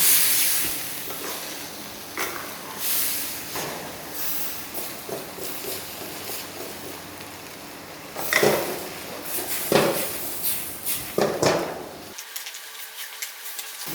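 A seafood sauce for spaghetti is stirred in a pan over low heat: a steady soft hiss of steam with scraping utensil strokes against the pan. The strokes grow sharper and more irregular, then the sound cuts to near silence at the end.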